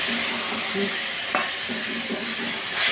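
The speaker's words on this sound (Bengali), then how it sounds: "সবটা পুরোটাই একসাথে দিয়ে দিচ্ছি মশলাটা" Spice paste of nutmeg, mace, cumin, coriander and chilli powders soaked in hot water, sautéing in a pan for a duck egg dish, giving a steady close sizzle with light stirring scrapes throughout.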